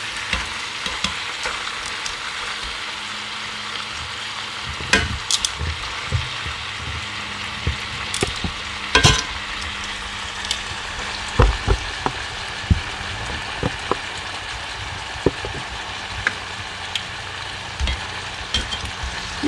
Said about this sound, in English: as we continue to saute this, it will continue to cook and continue to soften up